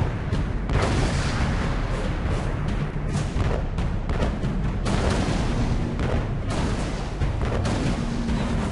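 Continuous dense booming from cannon fire and explosions in Alice: Madness Returns, a ship battle minigame firing cannons and water bombs, loud and unbroken with rapid overlapping blasts throughout.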